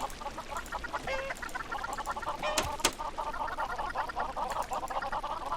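Chickens on a Minecraft chicken farm cluck steadily in a dense, overlapping chorus of game fowl calls, continuous and fairly close for the whole stretch with no talking.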